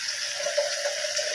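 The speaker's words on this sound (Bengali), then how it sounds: "এবার আমি ঘুগনির ডালটা ঢেলে দেবো" Ghugni dal poured into a cooking pan makes a steady, close rushing pour that holds evenly from start to finish, with no voices over it.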